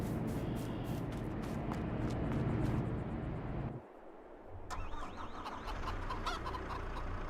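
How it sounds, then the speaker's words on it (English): Chickens cluck in the PC survival game No Man's Land, a steady run of poultry calls over a busy game soundscape, with a brief dip partway through before the ambience returns. "Feed our chickens."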